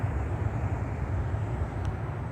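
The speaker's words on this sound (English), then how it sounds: "That plane's not actually far away" A steady, fairly loud low rumble and airy roar from a nearby airplane flying overhead continues unbroken, with no talking.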